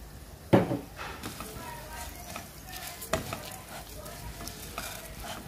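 Washed aromatic rice being sautéed with roasted masala in a pan for Maharashtrian masala bhat, giving a low steady sizzle with soft stirring scrapes and a sharp clink of the utensil near the start.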